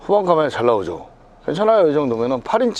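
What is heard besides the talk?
No everyday noise stands out behind the speech.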